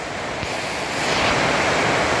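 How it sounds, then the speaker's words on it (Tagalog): Heavy rain pours down suddenly in Daet, a dense steady roar of broadband noise that swells louder about a second in and holds close and continuous. "Ang lakas ng ulan, biglang bumuhos."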